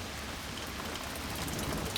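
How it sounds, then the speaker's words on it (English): Steady rain falls in a dense, even hiss with no breaks, moderately loud and close. "A nice bit of rain going on."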